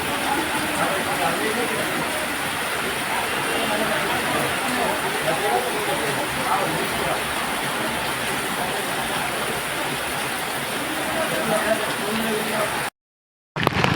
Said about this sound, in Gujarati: આ જામનગરમાં જોરદાર વરસાદ